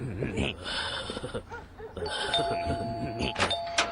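A doorbell chimes a couple of times, with people talking and laughing around it.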